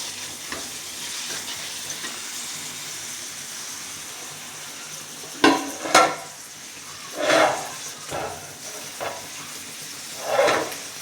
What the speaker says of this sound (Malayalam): ഉള്ളി വാട്ടി വെക്കുക.